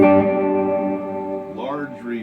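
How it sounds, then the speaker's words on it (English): A guitar played through a Crate V5212 amp with its slap back echo effect on, sustained chords with a short repeating echo, fairly loud and alone before a bend near the end. "on the other side, slap back."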